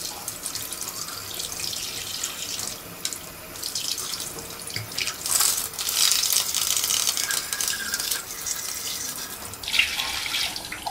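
Running water from a tap splashes and gurgles over OASE pond pump parts being rinsed, loud and close, with changing washes as the parts move under the flow; no talking.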